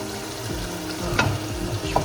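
Yogurt frying in a pan for rogan josh, a soft continuous sizzle with faint stirring scrapes and small crackles at moderate, low level.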